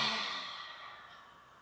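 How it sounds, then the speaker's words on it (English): A long, breathy exhale through the mouth during a yoga flow, loud at first and slowly trailing off over under two seconds, with no talking. "I want to have you exhale through your mouth here."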